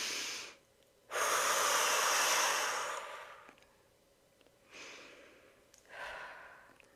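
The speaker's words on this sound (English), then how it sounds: "Deep breath in." A slow, deep inhalation drawn in through the nose, loud and close, swelling for about two seconds, followed by a softer exhale and two more quieter breaths, with no talking.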